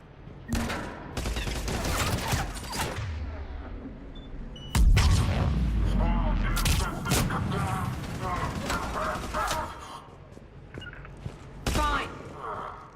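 Heavy gunfire in the video game Mass Effect 3 during a firefight on Omega, with dense volleys of shots, booming impacts and mechanical clatter, loud and continuous with voices heard among the combat noise.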